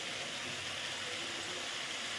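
A ground spice paste hits fried tomatoes in a pan for South Indian rasam, giving a steady, close, loud sizzle and hiss that runs unbroken with no voices.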